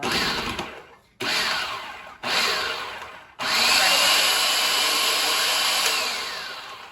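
Blender on high speed pureeing beet, yogurt, orange zest, salt and garlic, a loud steady whir broken by two brief stops before running on continuously, then easing off.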